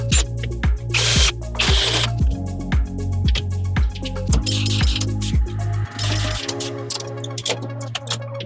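A power tool whirs in repeated short bursts, each ending in a sharp rivet pop, as clecos are removed and the bottom of a DIY cabinet is riveted. The steady rhythmic work is close and loud.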